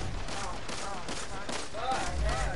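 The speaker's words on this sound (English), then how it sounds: "Who's shooting me?" Gunfire in the game Destiny, with a string of repeated shots and a voice talking over part of it.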